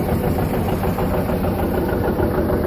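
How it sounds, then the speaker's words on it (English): A John Deere 720 two-cylinder tractor engine runs steadily, a loud, continuous low idle with dense rumbling vibration and no pauses or voices. "this is a John Deere 720. We run all 2-cylinder tractors."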